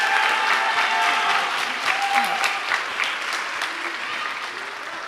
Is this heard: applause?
yes